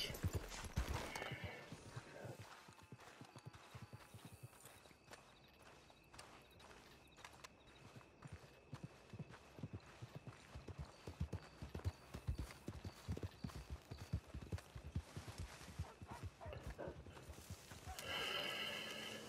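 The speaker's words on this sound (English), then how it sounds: "I guess I gotta exit on the horse though." Horse hooves clip-clop steadily along a street in Red Dead Redemption 2, with a loud neigh near the end; the hoofbeats are close, rhythmic and dense, and there is no talk.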